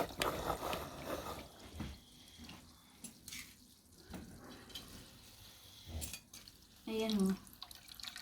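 Homemade coconut oil drips and trickles as it is strained, with scattered wet splashes and a short burst of pouring liquid near the end, close by, while someone speaks briefly.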